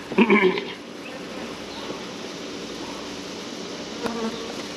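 Honey bees hum in a steady, close drone around an open hive during an inspection, with a brief voice heard at the start.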